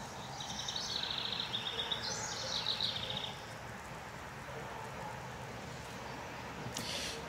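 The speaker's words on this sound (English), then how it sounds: "Decided to come out on the swing, listen to some birds for a little bit." Birds chirp and sing in a garden, a few faint high trills in the first few seconds over a quiet outdoor background hum, with a brief rustle near the end.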